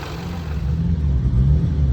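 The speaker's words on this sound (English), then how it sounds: "not what you want your Rover 5-liter supercharged to sound like." A Range Rover 5.0-litre supercharged V8 idles with a steady low rumble and a faint clattering rattle from worn timing chains and guides, close up and continuous, with no talk.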